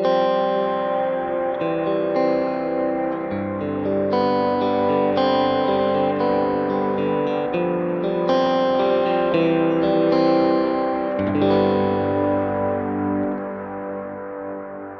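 Electric guitar through a Kemper Profiler on an infinity delay patch with heavy feedback and a high mix, sustained notes repeating and overlapping into a lush, echoing wash that fades at the end.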